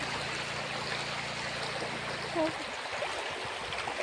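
A strong supply of water flows steadily in a village home, a continuous broadband rush lasting the whole stretch with a brief low hum at the start and no talking.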